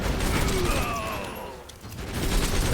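Axton's engineer auto turrets in Borderlands 2 fire a steady, dense stream of rapid gunshots that holds fairly loud for the whole stretch, with no voices over it.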